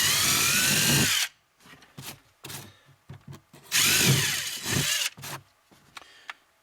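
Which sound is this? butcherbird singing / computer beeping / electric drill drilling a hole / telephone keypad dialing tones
electric drill drilling a hole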